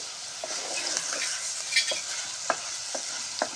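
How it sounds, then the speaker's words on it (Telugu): A spoon scrapes and stirs broad bean and tomato curry through a sizzling pan, with a steady frying hiss and a few sharp clinks against the metal. "ఇలా మొత్తం అంతా కలుపుకుంది"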